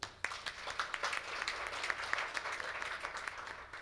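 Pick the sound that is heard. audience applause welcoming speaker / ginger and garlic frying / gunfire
audience applause welcoming speaker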